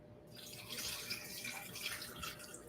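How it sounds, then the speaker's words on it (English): Refrigerated cold water is poured into a smoothie mix, making a continuous splashing, trickling sound that is soft and close with no talking. "I'm going to add some refrigerated cold water"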